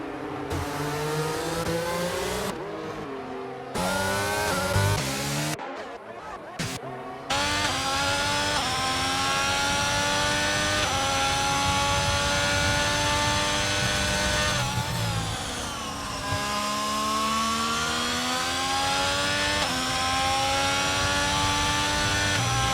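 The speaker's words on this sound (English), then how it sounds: "here is Zerkyie then, who is coming towards this long straight, lending itself into the final braking zone of this track" Race cars accelerating along the long straight at the Bahrain Grand Prix, engines screaming loud and steady with rising whines, brief gear-change breaks early on, and no talking.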